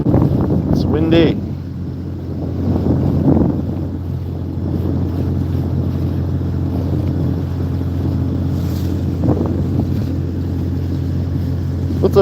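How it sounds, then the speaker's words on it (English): Wind buffets the microphone aboard a salmon gillnetting boat in Alaska, a steady low roar with the boat's drone running under it throughout, and brief bursts of voice heard near the start. "Windy."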